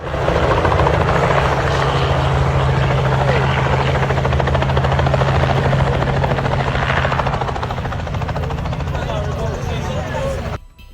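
A helicopter flies low and close overhead, its loud steady rotor thrum and engine whine filling the scene without a break while people talk over it.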